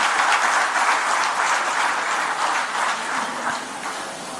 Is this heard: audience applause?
yes